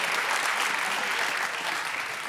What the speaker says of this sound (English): Do we get an applause for the try?